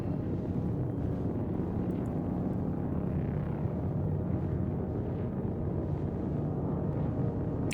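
A spaceship in Star Citizen flies through clouds in windy, turbulent air, giving a steady low roar of engine rumble and wind noise that holds constant throughout, with no voices.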